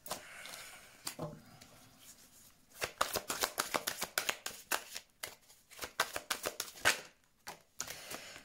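Tarot cards are riffled and shuffled by hand up close, a rapid run of crisp papery flicks and slaps after a few quieter handling sounds, without any talk.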